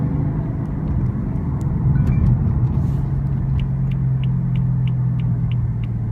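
A 2016 BMW M3 sedan with a dual-clutch transmission drives at moderate revs, its engine a steady low rumble with a swell of power midway through and faint ticking above.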